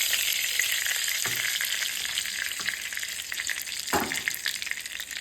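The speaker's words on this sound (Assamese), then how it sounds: "এতিয়া দিম ইয়াত পিঁয়াজখিনি এতিয়া এইখিনি ফ্ৰাই কৰি আছোঁ" Ground onion paste fries with bay leaf in a pan for fish curry, giving a constant loud sizzle up close with occasional scraping stirs.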